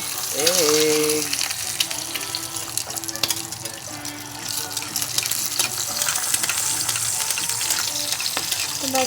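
Hot cooking oil spattering and sizzling around a frying egg in a pan, a dense close crackle with sharp pops throughout, while a voice speaks briefly over it.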